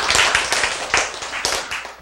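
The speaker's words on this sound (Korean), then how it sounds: "여러분이 이렇게 박수를 치고 있으면" An audience at a church sermon claps in an uneven patter of sharp hand claps, fairly close and steady for a couple of seconds with no talking over it.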